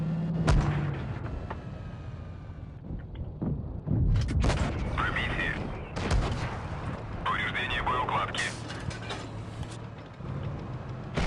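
Russian tank guns fire in the World of Tanks Blitz video game: several heavy, booming shots ring out at irregular intervals amid engine rumble and battle noise, loud and close.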